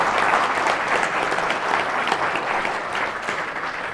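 Loud, steady applause from a gathered audience welcoming Acharya Chandradev ji to speak at a JSM training event in Balh, sustained and dense throughout with no voices over it.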